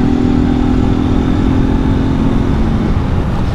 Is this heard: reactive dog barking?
no